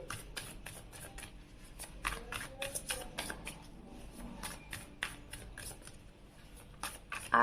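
Tarot cards are shuffled by hand, a quiet run of quick riffling and flicking bursts in uneven rhythm, close and soft, with no voice over it.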